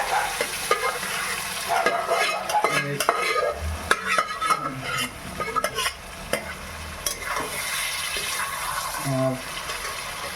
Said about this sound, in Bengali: এবার যে ম্যারিনেট করে রাখা মাংস ছিল, ঠিক আছে, সেই মাংসটা দেবো, হ্যাঁ, আস্তে আস্তে দিয়ে।